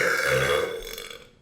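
A single loud, close burp from a man drinking beer, a drawn-out throaty belch that trails off over about a second.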